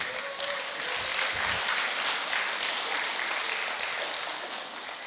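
A lecture audience breaks into loud, sustained applause, a dense wash of clapping that swells and then eases slightly.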